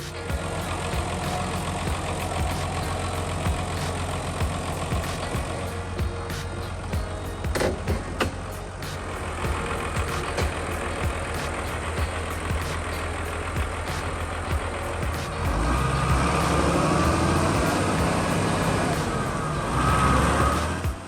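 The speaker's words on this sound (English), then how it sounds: "with the grit of the Belarus 1221, powered by a 6-cylinder turbocharged diesel engine producing about 136 horsepower, this slope cannot stop its logging mission" A Belarus 1221 tractor with a 6-cylinder turbocharged diesel labors up a slippery slope while logging, its engine droning steadily and close throughout, growing louder and heavier in the final seconds.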